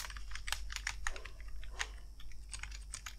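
Computer keyboard typing code, rapid light key clicks in an uneven run over a low steady hum, faint and close, with no talking.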